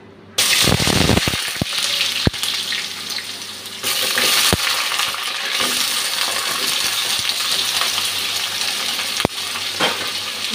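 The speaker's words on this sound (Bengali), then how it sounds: "আলুটা ভাজতে দিয়ে দিচ্ছি" Potatoes dropped into hot oil in a pan for a home-cooked potol posto and paneer curry, bursting into a loud, steady sizzle with sharp clinks of a utensil against the pan.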